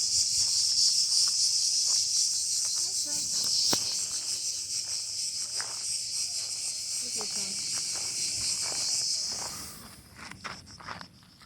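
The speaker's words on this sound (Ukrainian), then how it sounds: "І, звичайно, хор цикад." A dense, high-pitched cicada chorus shrills steadily throughout in a dry park in Athens, Greece, then drops away near the end, while footsteps crunch along underneath.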